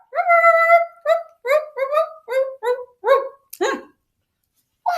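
A police dog in an animated children's safety story gives a quick series of about eight short, close yelping barks in uneven bursts, then a brief pause before one more bark.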